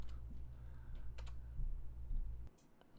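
A password being typed on a computer keyboard during a Hackintosh install, light quick key clicks close by over a steady low hum that drops out near the end.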